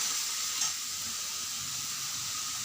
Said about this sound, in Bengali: ভালো করে নাড়াচাড়া করে মিশিয়ে নিলাম